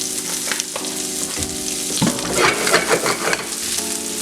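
Onions frying in oil in a pan for basil fried rice, a constant sizzle with scraping stir strokes and clatter, busiest around the middle, no voices.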